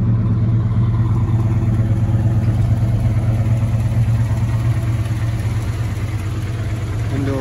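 A 1966 Chevrolet Impala with dual exhaust cruising down the road, giving a loud, steady low rumble that carries close and unbroken throughout with no talking.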